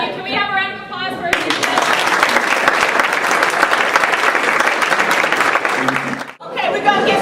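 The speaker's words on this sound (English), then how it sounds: "Can we have a round of applause for" A live audience at a roundtable event breaks into a loud, sustained round of applause lasting several seconds, dense clapping that cuts off abruptly near the end before a voice resumes.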